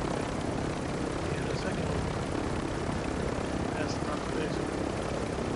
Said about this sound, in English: Looks like a team with a chopper is coming towards us.